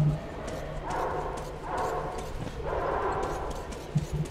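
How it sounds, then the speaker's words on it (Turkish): Dogs bark in bursts in the Metro Exodus video game, several rough barks spaced across a few seconds at moderate distance, while someone talks over them. "Köpek falan varmış."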